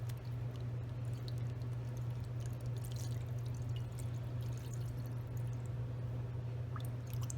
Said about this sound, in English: And now we'll fill this up with water.